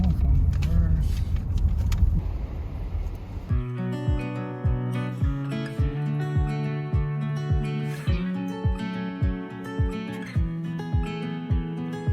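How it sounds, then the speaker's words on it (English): A car travels a road in Glacier National Park: a dense, close rumble at first, then a steady engine hum with a regular, evenly spaced pulsing beat, and people talking inside. "now we're gonna just drive to see what we can see"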